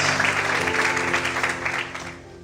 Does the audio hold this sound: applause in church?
yes